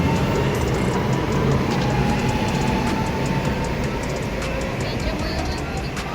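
A train rolls through a railway station in Riccione, a loud, steady rumble and rail noise that fills the whole stretch with little change.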